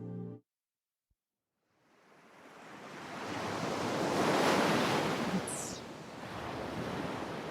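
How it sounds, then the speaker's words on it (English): Recorded ocean waves, played back and panning left and right, rise from silence into a broad, steady wash of surf that swells and holds, with no voices over it. "Sounds like the waves are going left and right"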